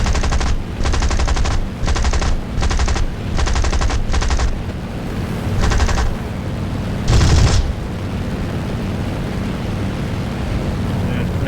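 Burst after burst of machine-gun fire from a Spitfire Mk II fighter in the War Thunder flight game over Sicily, several rapid rattling volleys in quick succession, then one final short burst over the steady drone of the aircraft engine.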